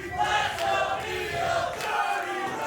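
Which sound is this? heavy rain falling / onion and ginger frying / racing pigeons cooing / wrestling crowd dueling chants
wrestling crowd dueling chants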